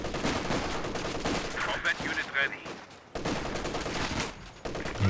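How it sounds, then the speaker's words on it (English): Dense, continuous machine gun fire from the World War II strategy game Company of Heroes 2, rapid rattling bursts with scattered distant shots, holding loud throughout with only a brief dip midway. "MG doing some nice work up there."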